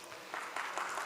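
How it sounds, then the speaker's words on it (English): An audience applauds technical staff at a Saturday morning event, giving a short, steady round of clapping heard from a room's distance. "I want to take the opportunity to give our technical staff a warm round of applause."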